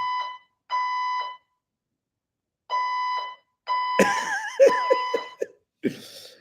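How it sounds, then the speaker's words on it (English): An alarm rings in short repeated bursts with pauses between them, then keeps sounding while people cough and laugh nearby. "Okay, so there's some sort of fire alarm here happening."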